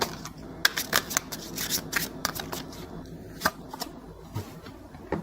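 Tarot cards shuffled and drawn by hand: soft, close riffling and flicking bursts with light card snaps, irregular and fairly quiet, no talking.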